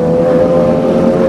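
A big motorcycle passing close by in Jakarta traffic during a Sunday ride: a loud, steady engine drone with a strong low tone, continuous and unbroken for the whole moment.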